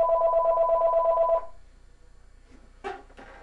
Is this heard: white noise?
no